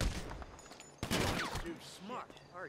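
Rapid gunfire crackles through a GTA V Online mission, a dense burst of shots about a second in with scattered cracks after, mixed with game noise and voices talking.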